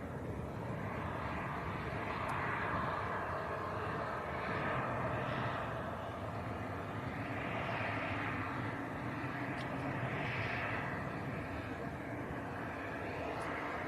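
A Pilatus PC-12 turboprop taxis on taxiway Lima, its engine a steady, moderately distant whine and roar with a slowly swelling and fading propeller drone, heard alone without talk.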